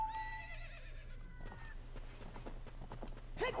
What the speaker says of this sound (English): Where is that darned horse?